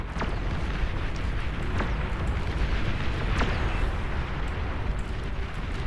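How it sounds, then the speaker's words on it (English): Tumbleweed units in the strategy game Beyond All Reason set each other off in a chain, a dense, steady roar of rumbling explosions with a few sharper pops scattered through it. "We really only have to blow up one or two at a time because they're all just they're detonating each other."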